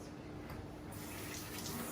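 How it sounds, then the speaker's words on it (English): Water running from a tap while hands are washed before making fermented vegetables, a steady close rushing hiss with no talking. "So first thing we want to do is wash our hands."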